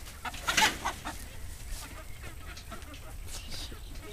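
Backyard chickens cluck and squawk while being herded, a burst of agitated calls early on, then scattered clucks over rustling and movement, with people talking nearby.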